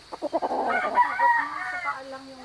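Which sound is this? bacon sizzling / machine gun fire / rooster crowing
rooster crowing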